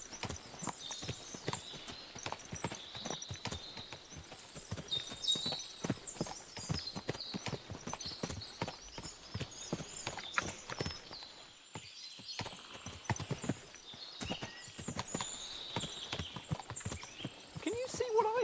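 Several horses walking in the medieval game Kingdom Come: Deliverance II, their hooves clip-clopping in steady overlapping patter at close range, with occasional creaks and quiet background movement throughout.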